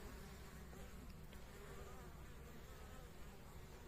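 A dense, steady buzzing of many honeybees at a hive entrance on a mild late-winter day, constant and enveloping, heard close up with no voices.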